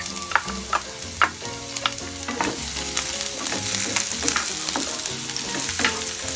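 Chopped onion sizzles and crackles in hot olive oil in a pan, a dense continuous frying hiss close by, with occasional stirring clicks and scrapes.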